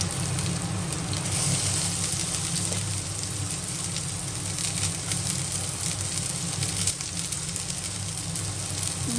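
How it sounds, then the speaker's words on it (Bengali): Chopped onion dropped into hot mustard oil tempered with nigella seeds hisses in a steady, even sizzle, close and continuous on an induction cooktop, with no voices over it. "সর্ষের তেল দিয়েছি আর কালো জিরে ফোড়ন দিয়েছি। এবার পেঁয়াজটা দিয়ে দিচ্ছি।"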